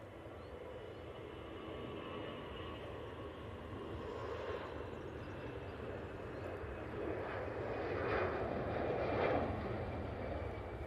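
EasyJet Airbus A321neo on its takeoff roll at Manchester Airport, a steady broadband jet roar at a middle distance that swells gradually toward the end with no voices.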